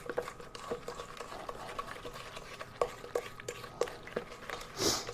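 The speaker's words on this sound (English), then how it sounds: "now we've got to stir this" A spoon stirs mustard into a homemade meatloaf red sauce, making soft repeated scraping and clinking strokes against the bowl, close by and fairly quiet, with no talking.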